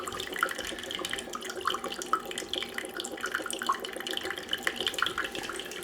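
Water trickles and splashes steadily in a small bonsai fountain holding a Ficus microcarpa, a quiet, continuous burble with fine drips spattering close by.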